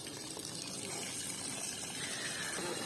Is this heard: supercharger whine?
no